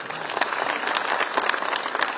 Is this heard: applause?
yes